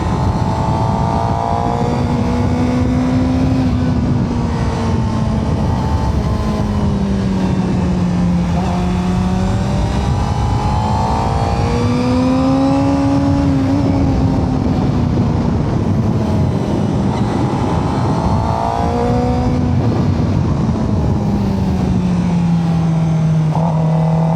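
On a race track during a first track day, a motorcycle engine roars steadily and loudly. Its pitch swells and dips through repeated rev rises and drops as the rider works through corners, with strong wind rush around it.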